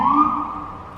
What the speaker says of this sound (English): That's city life for you, sirens and horns and stuff going off